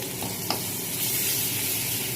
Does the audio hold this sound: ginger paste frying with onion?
yes